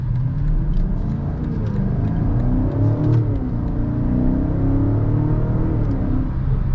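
A 2024 BMW X5 M60i pulls hard with a loud, deep, continuous engine roar that climbs in pitch over the run, heard close from inside the cabin.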